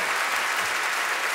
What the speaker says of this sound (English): You cannot give them too many rounds of applause as far as I'm concerned.